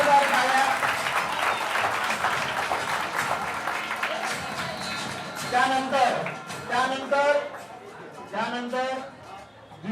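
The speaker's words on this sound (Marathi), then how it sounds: "पुन्हा एकदा तिच्यासाठी टाळ्या झाल्या पाहिजे" Hearty audience clapping at a talent hunt exam prize distribution ceremony fills the first half, then fades as a speaker's voice takes over.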